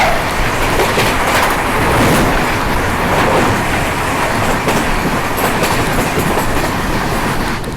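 A passing train crosses on the railway beside a moving Jaipur–Mumbai superfast express, a loud continuous roar of wheels and wagons with steady clickety-clack rhythm, close and unbroken.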